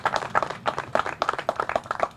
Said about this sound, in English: another round of applause for all of them for their role in creating this garden